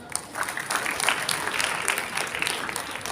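A seminar audience claps steadily for a few seconds at a paper-presentation session, a close, even wash of many hands with a few sharper individual claps standing out.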